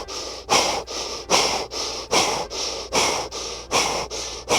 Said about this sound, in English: fire breathing, where you hold your hands out at 45-degree angle and breathe